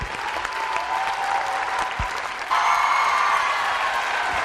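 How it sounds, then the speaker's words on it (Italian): Large audience applauding at a televised music awards show in Venice, a steady, dense wash of clapping that swells louder partway through. "stasera vincono, perché se lo meritano, l'applauso del grande pubblico d'insieme."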